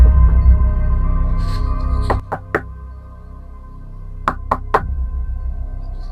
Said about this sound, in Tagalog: Isang gabi, may kumatok sa aking bintana.